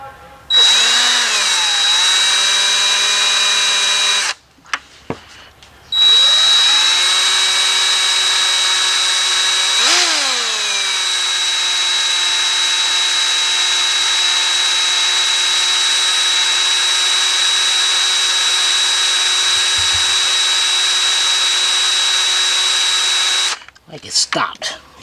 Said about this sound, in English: I'm not drilling into the cam. Am I going into the bolt?